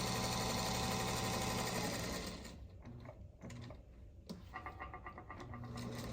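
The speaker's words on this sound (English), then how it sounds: "Sewing right on this line." A sewing machine stitches fabric, whirring steadily and close for about two seconds before slowing to a stop, followed by quiet handling clicks and a brief restart toward the end.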